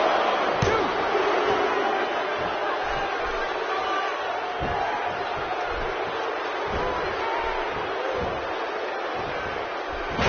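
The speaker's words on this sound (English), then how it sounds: "by the sound of this crowd, I think they're getting what they wanted" An arena crowd in the wrestling video game WWE 2K16 roars in a steady, dense wash of cheering, with occasional sharp thuds from ring action mixed in.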